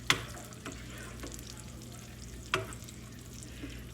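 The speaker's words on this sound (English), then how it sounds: "Eggs are cooking." Eggs scramble and fry in a pan for shrimp fried rice. A steady, close sizzle runs throughout, broken by a few sharp utensil knocks near the start and middle.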